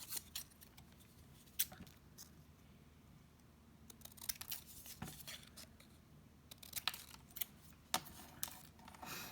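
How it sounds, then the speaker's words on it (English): Scissors trimming the ends of paper while making a card, a few quiet sharp snips and paper rustles spread across a soft, near-silent background. "And then we can just trim off those ends."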